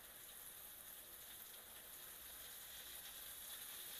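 Chicken pieces for black pepper fried chicken fry in hot oil over medium heat, giving a faint, steady, even sizzle with no talk.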